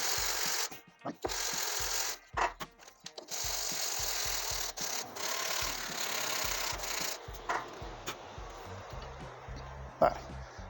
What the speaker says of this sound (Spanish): voy a terminar de lijar esta pastilla